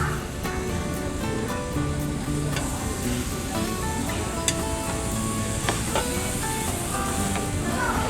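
Fatty cuts of meat sizzle steadily on a heated Korean BBQ grill, a continuous close crackle and hiss with scattered pops, with no voices.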